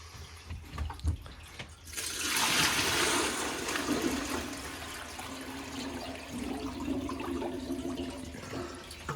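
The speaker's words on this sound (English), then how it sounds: "Just filtering our sap." Maple sap is poured through a milk strainer filter, a sudden broad rushing splash of liquid that starts after a short pause and continues steadily, loud and close, easing slightly toward the end.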